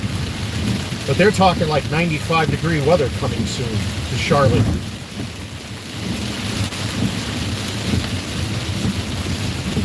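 Heavy rain pours steadily, with a low rumble of thunder underneath, while someone talks over the first half.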